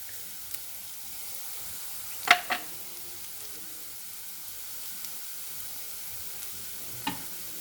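Turmeric stirred into onions frying in a pan for vermicelli upma, a soft continuous sizzle with a few brief spoon clinks, close and without talk.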